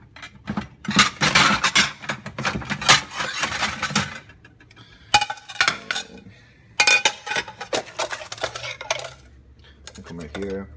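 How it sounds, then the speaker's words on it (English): A plate is grabbed from a kitchen stack, dishes and cutlery clattering in a cluster of close, sharp knocks, then a pause followed by two more bursts of clinking and scraping. "first thing, I'll grab a plate"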